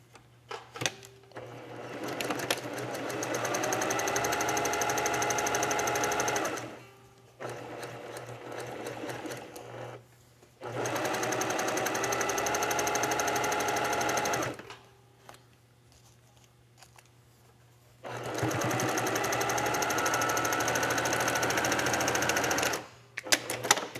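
Sewing machine stitching a quilt seam in three long runs of rapid, steady mechanical whirring, each several seconds long, separated by short quiet pauses with light handling noises.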